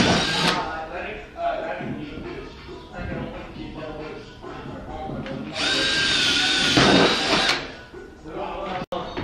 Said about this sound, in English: I finished drilling the holes on the front splitter